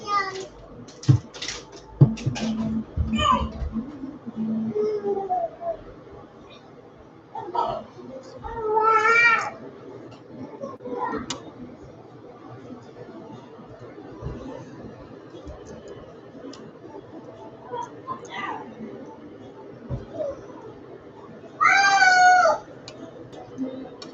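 A cat meows a few times in short, clear bursts in a home kitchen during the cooking of cheese lobster and fettuccine, spaced apart between people talking and other small household noises.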